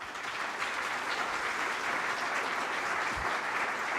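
An audience applauds a panel discussion with dense, sustained clapping that stays steady and loud for the whole stretch.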